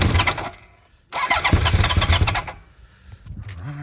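A Honda CB900F Bol d'or with FCR33 flatslide carburetors is cold started without choke: a burst of cranking and loud revving, a short pause, then another loud catch that dies back to a rougher, quieter idle.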